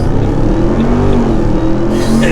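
A RAM TRX Hellcat pickup on 35-inch tires accelerates hard from a standstill during a 0-60 run. Heard from inside the cab, a loud, dense engine roar climbs steadily in pitch without a break, and nobody speaks.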